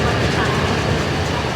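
A small tug locomotive pulling a passenger train into place on the run back to Malaysia, a loud, steady, low rumble that goes on without a break.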